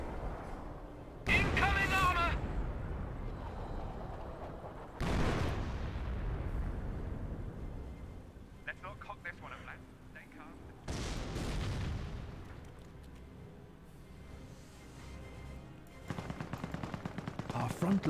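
An artillery barrage lands in Company of Heroes 1: several heavy, booming impacts spaced seconds apart, each trailing off in a long rumble, mixed with scattered gunfire under ongoing commentary.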